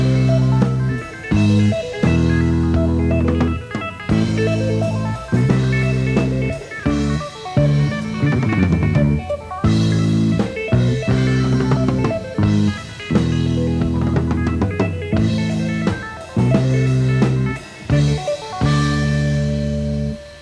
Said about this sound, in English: the bass and drums can play a counter melody with accents against that.